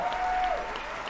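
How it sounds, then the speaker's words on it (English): Applause rises from a crowd at a streaming awards show as Streamer of the Year is announced, a continuous wash of clapping heard at a distance with a faint tone running beneath. "Can we get some applause?"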